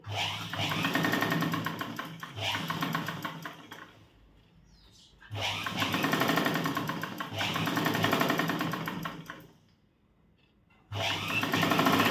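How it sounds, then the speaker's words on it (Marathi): Sewing machine stitching a blouse side seam, steady close whirring runs of about three seconds broken by short pauses, no voices. "स्टिचिंगला सुरुवात करायची आपल्याला"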